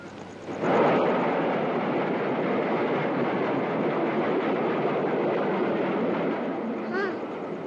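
A train runs on rails with a steady, loud rumbling roar that sustains for several seconds, a faint rhythmic clatter beneath, with no talk over it.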